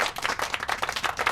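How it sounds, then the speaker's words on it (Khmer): A short burst of applause, with a small group clapping quickly and unevenly at close range for just over a second, bright and steady without any voices. "សុំសម្លេងផ្ទះដៃបន្តិចមក"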